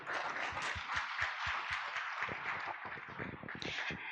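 Audience applause at a trade review conference in Uganda, a steady patter of hand claps filling the room at moderate distance, thinning toward the end.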